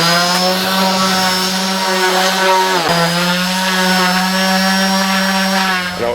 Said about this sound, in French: maintenant on va les poncer un petit peu pour que la pénétration du produit et de la lasure soit meilleure